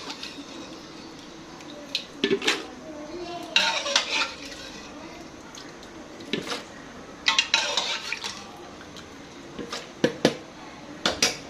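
A spoon scrapes and clinks against a bowl while scooping white chickpeas, in irregular bursts with short metallic taps, close up and without talk.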